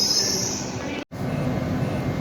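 A train at Newton Abbot station, a steady loud rumble of wheels and engine at close range with a faint high squeal, broken by one very short dropout midway.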